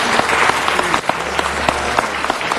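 An audience at a city council meeting claps in a dense, sustained burst, individual hand claps popping out near and sharp above the general patter, with a low steady hum running underneath.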